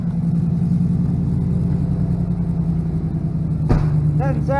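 A 1993 Chevy engine idles through a straight muffler dump with a steady, loud, low rumble close by. A sharp knock and a short voice come near the end.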